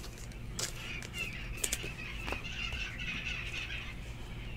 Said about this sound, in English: I almost didn't hear you.